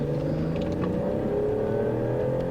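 A car drives on a gravel road during a police pursuit in Wisconsin, its engine a steady loud drone with continuous tire rumble, close and without talk.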